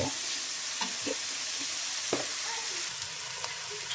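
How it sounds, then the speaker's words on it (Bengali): Grated coconut and green chillies frying in hot oil give a steady close sizzle with light scraping stirs of a spatula against the pan scattered throughout. "এটা আমি ভেজে নিচ্ছি এটা যখন একদম ঘ্রাণ আসবে ভেজে তারপরে আমি শাক দিয়ে দেব"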